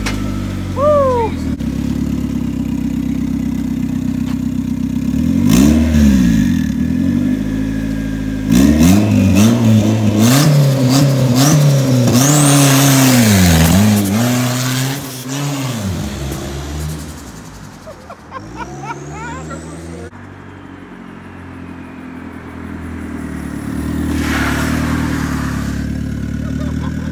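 A turbocharged go-kart built around a Honda CR-V engine revs and accelerates hard, its loud, rising engine note climbing and dropping through gear-like surges, with a whistle-like turbo tone and a quieter stretch near the end.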